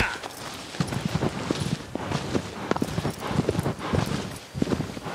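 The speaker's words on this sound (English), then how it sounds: "Now the horse going slow." A horse's hooves clip-clop at a slow walk in the video game Shadow of the Colossus, a steady, moderately quiet plodding rhythm of hoofbeats on open ground.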